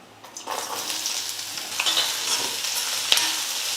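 Sliced large onion sautés in hot gingelly oil with dried red chilies and tamarind for a chutney: a continuous bright sizzle broken by scraping stirs and a couple of sharp utensil clacks, with no voices.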